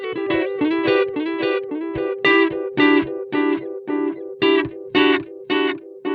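A distorted electric guitar, through amps and pedals, plays a rhythmic run of short chords and notes, loud and punchy, with heavy effects and no voices.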